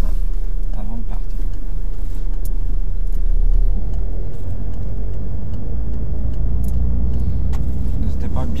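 Car pulling away from the kerb during a driving test, a steady low engine drone from inside the cabin with a slight swell as it moves off, accompanied by scattered clicks.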